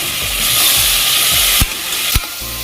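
Onions and tomatoes sizzle steadily in a hot pan for masala chicken, a constant frying hiss broken by a few soft stirring scrapes and two brief clanks near the end.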